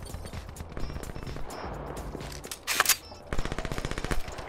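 Machine gun fire in Black Ops 3, with rapid bursts of shots, a short gap, then a louder sustained volley, close and loud with no talk.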